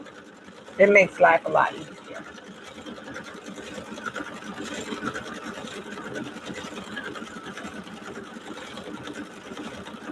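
A sewing machine, likely an embroidery machine given the stitching out, works on a Matrimony wedding quilt block with a steady low mechanical hum under a woman's speech, a few short louder bursts early on.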